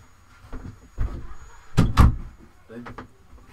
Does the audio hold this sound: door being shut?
yes